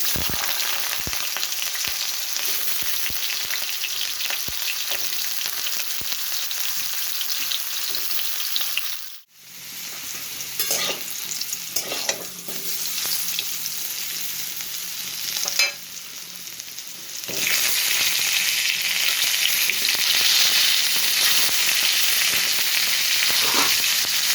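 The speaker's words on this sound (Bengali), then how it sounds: "এখানে দেখো তেল গরমও হয়ে গেছে এরপর আমি এখানে আলুগুলো একটু ভেজে নেবো" Potatoes fry in hot oil for a home vegetable curry, a steady loud broadband sizzle with stirring scrapes, briefly dropping out twice before the crackle resumes.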